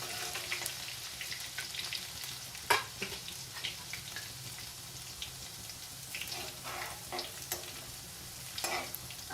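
Green chili and ginger paste stirred in a frying pan for a dry potato sabzi, a faint steady sizzle broken by occasional spoon knocks and scrapes, close but quiet, no talking.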